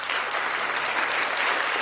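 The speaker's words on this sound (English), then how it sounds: "Round of applause, ladies and gentlemen, for NCR News Network." Steady applause from a crowd, dense and continuous clapping at an even level throughout with no voices.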